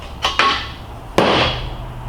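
Three sharp hammer knocks against a welded turbo manifold part, two close together then one more after a pause, each ringing briefly with metallic decay; no talking.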